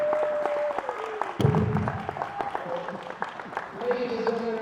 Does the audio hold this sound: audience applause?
yes